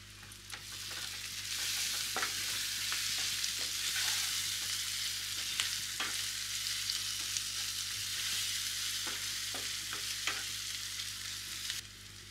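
Ground coriander, chili and cumin spice mix sizzles steadily in a pan for steamed egg curry, with occasional scrapes of a spatula stirring through the constant frying hiss.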